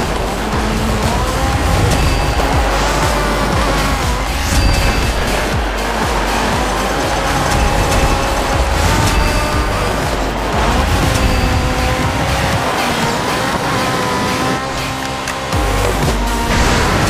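Race cars in the DiRT Showdown video game roar continuously at close range, engine drone and tire noise sustained throughout with shifting pitch and occasional skidding, under a steady dense mix.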